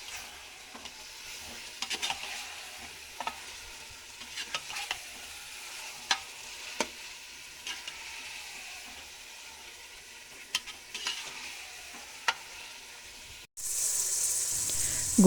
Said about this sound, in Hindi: इसकी भुनाई कर लेंगे ताकि स्मेल वगैरह जो है ना ख़त्म हो जाए।